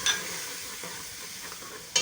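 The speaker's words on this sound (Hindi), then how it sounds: "इसमें हम टमाटर डाल देंगे। सब कुछ डाल देंगे, टमाटर डाल के हरी मिर्च डलेगी।" Tomatoes and two green chillies hitting a hot pan of aloo gobi give a steady sizzle and stirring hiss, with a sharp clatter at the start and again near the end.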